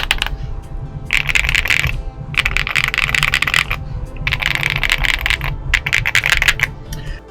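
Rapid, crisp clacking of an aluminum HHKB-layout mechanical keyboard with Feker Marble White switches and MT3 keycaps, typed on up close, coming in bursts with short pauses between them.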